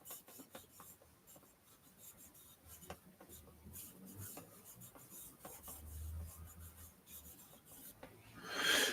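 A pencil scratches and rubs steadily across paper while a portrait is drawn, making a soft, continuous rasping with short stroke accents that grows louder toward the end.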